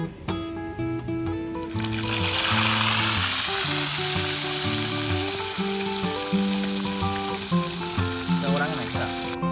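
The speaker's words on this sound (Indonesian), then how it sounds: "udang dan ikan lainnya mulai aku goreng" Shrimp and fish fry in a pan at a beachside campsite, a loud, steady sizzle that swells as food is added, with clinks and scraping from stirring and faint background sounds.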